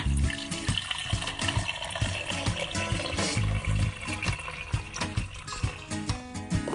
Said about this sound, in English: Some water.